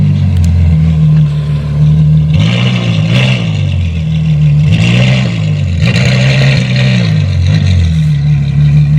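A Ferrari F12 engine runs steadily nearby, with a deep low drone that swells into several rising and falling revs as the car is driven at low speed to be parked.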